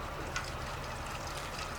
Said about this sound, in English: Water's coming out, filling up the tailings bucket.